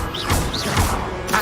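Levioso levitation spell cast in the Hogwarts Legacy video game: a swooshing magical effect with two rising shimmering sweeps and soft thuds, fairly loud and steady, with no talking.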